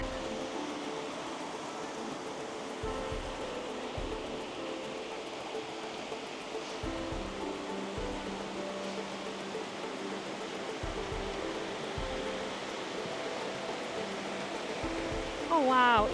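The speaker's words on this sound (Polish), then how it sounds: "dochodzimy tam do wodospadu." A waterfall near Thun, Switzerland, gives a steady, broad rushing roar that fills the whole stretch without a break, with a few low thuds close by.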